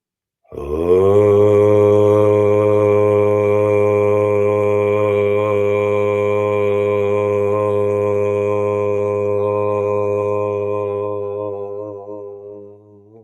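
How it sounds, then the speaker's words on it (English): A group of voices chanting one long sacred Om together: a single sustained, steady drone, resonant and close, holding for about ten seconds before slowly fading away. "we're going to tune in together with just one sacred bead sound of Om"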